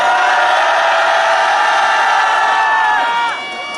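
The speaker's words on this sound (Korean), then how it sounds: "모두 큰 함성으로 출정식을 함께 해주십시오." A large crowd at a street march rally in Seoul, with Sewol ferry victims' families, roars in a sustained, loud mass shout for about three seconds before it quickly fades.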